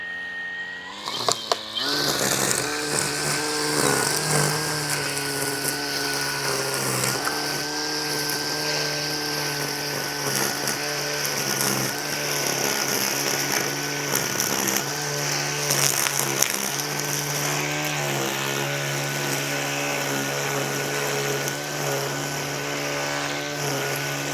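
An Echo string trimmer runs continuously at high revs, a loud, steady buzzing whine close by with slight fluctuations in pitch as it cuts grass, after a brief start-up at the beginning; no talking.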